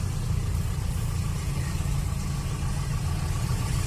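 A motorbike and cars idle and creep along a narrow street in Camamu, Bahia, a steady low engine rumble with mid-range motor hum, close and continuous, without talk.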